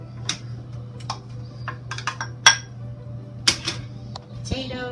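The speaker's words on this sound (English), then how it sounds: "And then you will just begin dumping all of the different" Potatoes, carrots, celery and onion are dumped into a soup pot, giving a run of irregular knocks and clattering thuds over a steady low hum.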